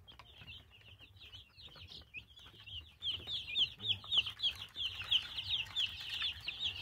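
Young farm chicks about eight days old, from a hatchery flock, chirp in a busy overlapping chorus of high peeps that grows louder and denser partway through, with soft low rustling beneath.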